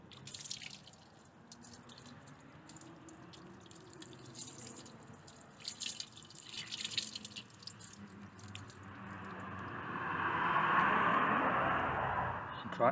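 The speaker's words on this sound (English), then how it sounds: "Just rinse it with water." Water rinses a car wheel during curb-rash repair, a faint trickling and splashing that swells into a steadier spray toward the end.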